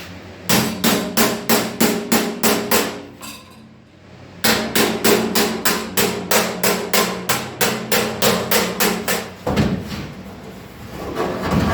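Hammer blows on steel sheet bending over a flange, two long runs of rapid even ringing strikes with a short pause between, close and loud, no talk.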